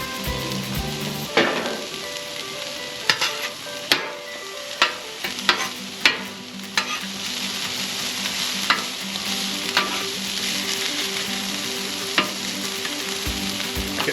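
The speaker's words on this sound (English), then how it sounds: "Get those peppers and onions grilled up just right." Peppers and onions sizzle loudly on a Blackstone griddle, a constant close hiss broken by regular sharp scraping clacks of a spatula stirring and turning the vegetables.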